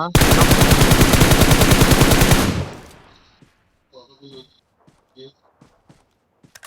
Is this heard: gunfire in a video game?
yes